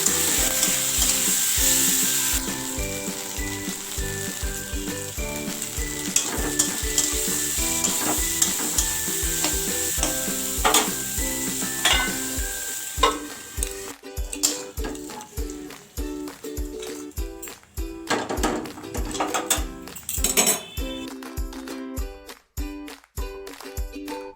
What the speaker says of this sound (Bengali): এই উনানে উচ্ছে ভেজে নেবো